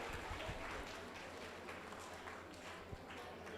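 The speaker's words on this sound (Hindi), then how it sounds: "ये जोरदार तालियों का शोर ज़रूर होते रहना चाहिए" An audience claps at a housing society Ganesh festival event in Nagpur, producing steady, dense applause that fills the whole moment at moderate loudness with no voices over it.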